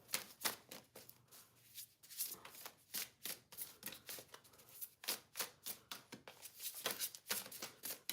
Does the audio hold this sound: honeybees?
no